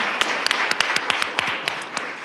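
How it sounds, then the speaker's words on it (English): A small group claps steadily and briskly for a couple of seconds, individual claps distinct and fairly close. "So let's give Rita a round of applause"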